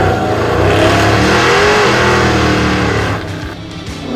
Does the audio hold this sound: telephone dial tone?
no